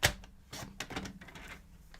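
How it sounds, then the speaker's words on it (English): Card for a fun fold trellis card with a planter base being cut, a close sharp snip followed by a rapid series of crisp clicking cuts. "I'm just gonna cut it."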